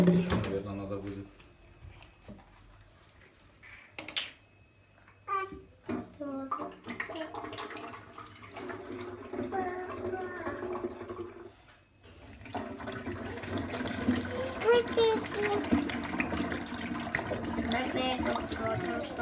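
Water is poured from bottles into the tank of a Polaris PUH 4405D ultrasonic humidifier, heard as intermittent gurgling and splashing with plastic handling clicks, while people talk over it nearby.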